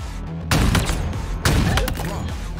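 Sniper fire in the video game Halo Infinite: two heavy, booming shots about a second apart, each followed by a rumbling tail over constant game background noise.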